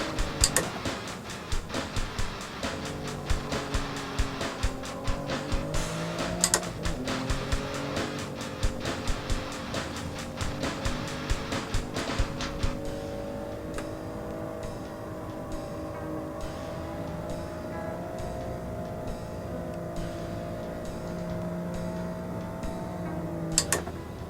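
Car driving a lap of the Nürburgring Nordschleife, engine droning steadily with revs rising and falling through several gear shifts, accompanied by rattling clicks and ticks inside the cabin, with no talking.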